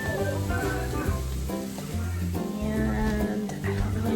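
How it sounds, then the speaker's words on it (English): Green beans sauté in a hot pan with a steady, close sizzle and crackle, stirred now and then with soft clinks, while a low hum runs underneath. "I am going to saute up some green beans for a"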